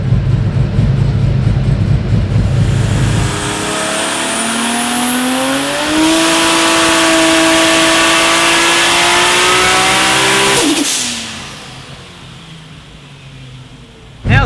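A powerful single-cam car engine idles roughly, then revs hard, pitch climbing and holding at a loud scream before abruptly cutting back to a low rumble.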